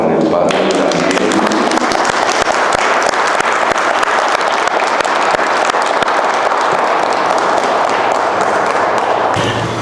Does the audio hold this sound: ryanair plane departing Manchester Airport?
no